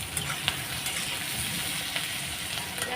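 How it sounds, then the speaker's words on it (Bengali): Onions fry in oil with whole garam masala and bay leaves, a dense, steady sizzle and crackle close by, with a few faint stirring clicks and no talking. "পেঁয়াজটা আমি ভেজে নিচ্ছি এর মধ্যে গোটা গরম মশলা আর তেজপাতা দিয়েছি"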